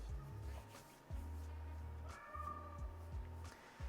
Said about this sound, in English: our cat is saying hello as well